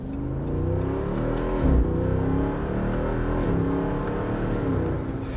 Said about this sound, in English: Listen to these downshifts.